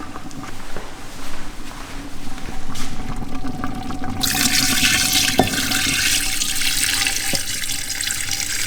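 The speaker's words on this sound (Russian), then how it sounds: "Добавляем сюда говяжий бульон." Beef broth is poured into an Afghan kazan: steady broadband pouring and splashing starts partway through, loud and close, and continues to the end over quieter kitchen background.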